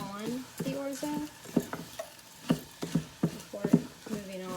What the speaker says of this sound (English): So I'm going to go ahead and stir it to get all of the oil and herbs on the orzo